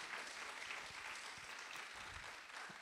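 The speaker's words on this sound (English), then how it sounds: "Give one round of applause." Faint, steady applause from a crowd at a women entrepreneurs seminar in Dallas, a continuous wash of clapping heard from a distance.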